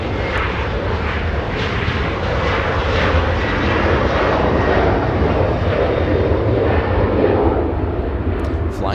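A jet climbs out on a north side departure from Los Angeles International Airport bound for New Orleans, its loud, steady engine roar filling the air with no voices.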